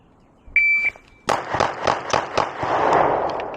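A Glock 26 Gen 3 pistol with no sights fires at a target 5 yards away. A shot timer's electronic beep comes first, then five sharp, loud gunshots in quick, fairly even succession, ending in a fading echo.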